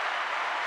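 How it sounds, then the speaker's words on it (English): An audience gives a brief burst of applause for a newly married couple, a dense patter of clapping that is cut off almost as soon as it starts. "Applause for that"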